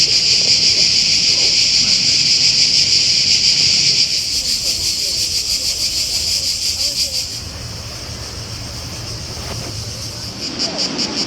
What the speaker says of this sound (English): And the cicadas in the trees as well.